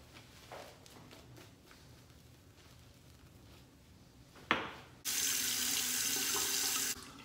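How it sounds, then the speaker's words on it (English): Water from a sink tap gushes in a loud, steady stream for the last couple of seconds while a razor is rinsed, after quiet handling clicks and a sharp knock. "Slight rinse, re-lather."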